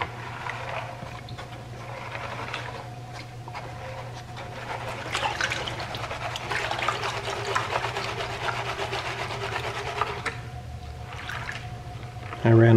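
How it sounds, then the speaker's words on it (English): Gold concentrates from a prospecting park being panned in water, with continuous sloshing, trickling and swirling water and gritty material shifting in the pan, moderately close with a steady low hum underneath. "we'll pan this out and see if there's any gold in it"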